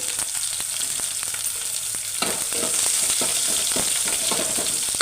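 Crushed garlic frying in hot oil makes a steady, crackling sizzle with small pops, and it grows a bit louder partway through as stirring begins, heard close up with no voices.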